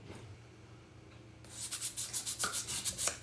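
A silver ring made from a Year of the Dragon silver round is smoothed, giving a quiet start and then a run of rhythmic, close rubbing and sanding strokes, about a dozen quick scrapes in a row.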